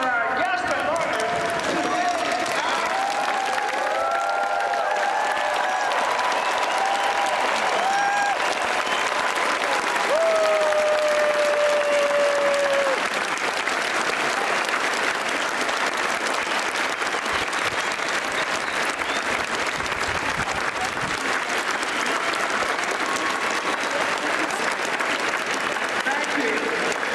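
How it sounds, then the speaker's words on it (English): Stadium crowd applauding a guest of honor at a graduation, sustained dense clapping filling the stands for nearly half a minute, loud, with some voices and cheers mixed in. "please stand up and join me in a round of applause for our guest of honor"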